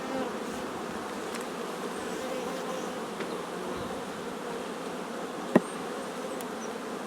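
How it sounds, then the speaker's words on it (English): Honeybees in a newly split colony give off a steady, soft buzzing hum around a frame of freshly emerging bees, with one brief tap near the end. "So that's a whole frame of new bees that are going to be flying within"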